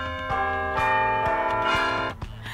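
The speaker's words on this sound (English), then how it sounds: "Let's ring the bell." At a high school basketball game, a bell rings with a sustained, resonant tone that holds for about two seconds and then cuts off, loud and alone.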